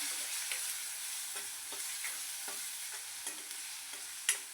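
Spoon stirring tomato, red chilli powder and turmeric masala in a frying pan for cabbage bhaji, with a steady soft sizzle and repeated scraping strokes, close and fairly quiet, no voices.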